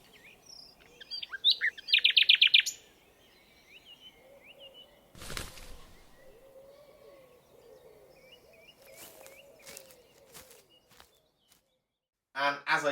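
A nightingale sings outdoors, with bursts of rapid, repeated chirping notes and whistled phrases at moderate distance, broken by pauses. A loud handling rustle interrupts partway through, and another burst of song comes at the end.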